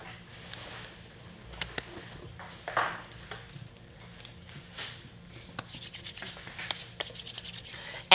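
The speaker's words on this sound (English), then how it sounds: "There's two people buffing, go ahead. Make sure that it's chrome free." Nails being buffed at a live nail art session, giving a steady soft rubbing and sanding texture with small clicks and taps, fairly quiet throughout with no talking.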